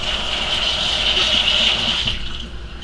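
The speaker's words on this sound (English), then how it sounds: "I rinse it off with water to get the sodium out of it" Processed ham rinsed under running water from a kitchen tap, a steady close hissing stream that fades off near the end.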